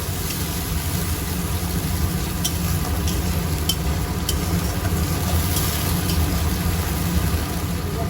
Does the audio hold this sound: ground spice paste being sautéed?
yes